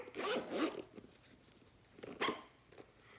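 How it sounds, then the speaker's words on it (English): A zipper is pulled open in a few quick rasping strokes, close and fairly quiet, with brief pauses between the pulls. "Zipper."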